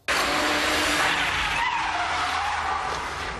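A Peugeot 406 skidding with its tires sliding and squealing in one loud, sustained screech that slowly fades toward the end.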